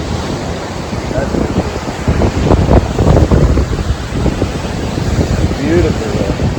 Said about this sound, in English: Waves are really coming in.